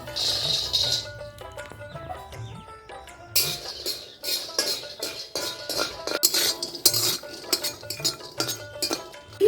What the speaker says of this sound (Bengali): এই বাদামটা ভেজে নেব